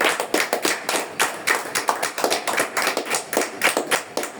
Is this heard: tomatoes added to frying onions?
no